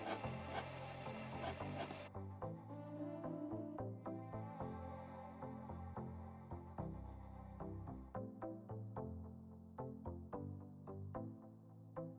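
Felt-tip marker strokes rub across paper while coloring a bird drawing's feathers, soft close scratchy rasps, a dense stretch at first, then quieter, distinct repeated short strokes.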